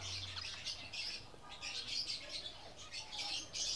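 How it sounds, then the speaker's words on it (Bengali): A captive diamond dove, soft chirps and bird calls close by, brief and fairly faint over low background noise with no voices. "এটা একটা ডায়মন্ড ডাব পাখি"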